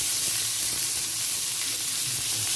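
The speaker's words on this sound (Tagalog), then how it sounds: "Guys, igisa natin yung giniling, bawang." Ground pork and garlic sautéing in a hot pan give a steady, dense sizzle with a faint stirring scrape underneath, close and continuous throughout.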